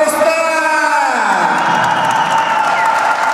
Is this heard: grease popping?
no